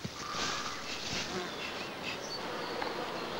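Bees hum around a beekeeper in the Paulac forest in the Creuse, a dense, steady buzzing swarm close by with individual insects droning past.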